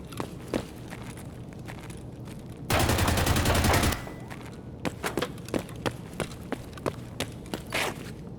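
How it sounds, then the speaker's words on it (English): Full-auto gunfire bursts from the video game Escape from Tarkov: a loud, dense sustained burst of rapid shots lasting about a second, surrounded by scattered footsteps and single sharp thumps before and after. "Someone's firing full auto."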